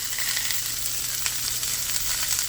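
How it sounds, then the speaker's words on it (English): Onions sizzling and frying in a pan alongside sausage on a stovetop, a steady close crackling hiss that runs unbroken with small pops scattered through it. "if you want your onions fried up a little bit, now would be the time to put them in there"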